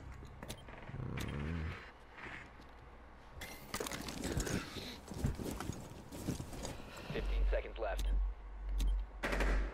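Gunfire in Rainbow Six Siege, rapid shots and clattering impacts mixed with game effects and heavy low thumps, with a player talking over the action.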